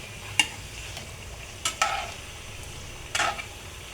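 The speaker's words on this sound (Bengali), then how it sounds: "এগুলো ভাজা হয়ে গেছে, আমি এখন বাকিগুলো ভেজে নেব।" Egg cake pitha fries in a pan with a low, steady sizzle, broken by a few separate, close scrapes and clacks as the pieces are turned.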